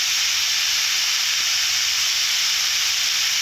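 Steady, bright hiss of meat being sautéed in a pan for a spicy braised meat dish, a continuous close sizzle with no break and no talking.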